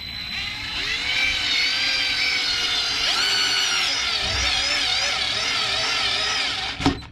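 A Black & Decker cordless drill drives a screw or bit into wood without a pilot hole, whining steadily for about seven seconds with its pitch wavering under load, loud and close, and a sharp clunk right at the end.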